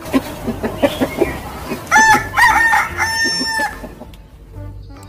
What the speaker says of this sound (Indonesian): ini ada hewan namanya ayam jantan